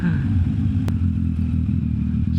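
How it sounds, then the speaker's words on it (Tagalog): A 2021 Yamaha MT-09 motorcycle engine runs close by with a gruff, throaty idle and a brief sharp click, the low engine note steady throughout. "Rinig na rinig nyo yung galit na makina."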